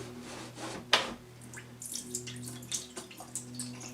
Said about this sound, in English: pour the lye solution down the drain, which will act as a drain cleaner anyway